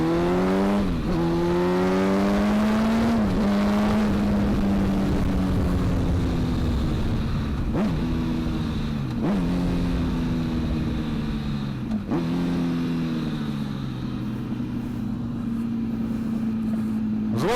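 A litre-class Britva motorcycle ridden by a stunt rider revs and shifts repeatedly, its engine note climbing through gears with sharp changes and a steady loud drone throughout, fairly close.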